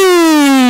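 Basketball end-of-quarter buzzer in an Italian Serie B arena, a single loud, sustained harsh electronic tone with rich overtones, held steady for under a second.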